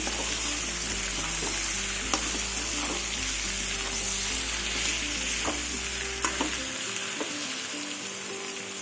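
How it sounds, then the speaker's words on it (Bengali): Fried vegetables are cooked down with ginger, dried chilli, coriander, cumin, turmeric, tomato and sugar in a pan for pui shak ghonto, giving a continuous close sizzle with repeated spatula scrapes and clicks. "সব মশলা দিয়ে ভালো করে কষিয়ে নেব"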